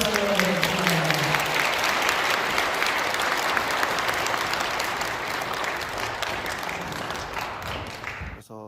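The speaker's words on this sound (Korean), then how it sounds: "이동욱 장로님, 뜨겁게 박수를 부탁드립니다" A large audience at a Christian revival rally in Daegu applauds warmly for an elder being introduced. The clapping is steady and dense and lasts several seconds with a voice faintly underneath, then it fades.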